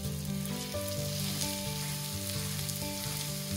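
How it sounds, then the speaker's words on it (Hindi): Potato filling for bread rolls fries in a pan with a continuous soft sizzle under steady sustained musical tones, fairly quiet and unbroken, with no speech. "अब हम इसे अच्छे से मिक्स करेंगे और पोटैटो के साथ 2-4 मिनट तक फ्राई होने देंगे।"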